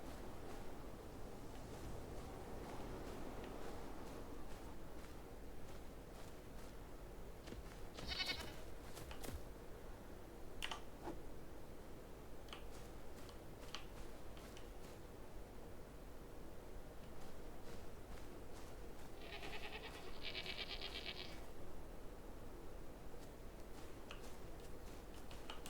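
Goats in the video game Enshrouded give a few short bleats against a quiet ambient backdrop, scattered with soft clicks and game effects over about twenty-five seconds.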